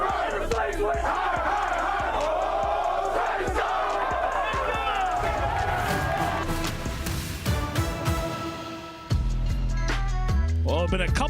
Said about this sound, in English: it's been a couple long weeks since we'd heard that cheer